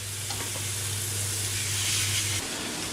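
Steak seasoned with onion, smashed garlic, thyme, crushed pepper and salt frying in a pan, giving a faint steady sizzle and hiss with a low hum underneath, no talking.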